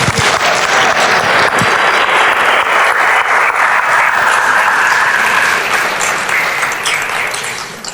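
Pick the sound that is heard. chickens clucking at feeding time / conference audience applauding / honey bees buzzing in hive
conference audience applauding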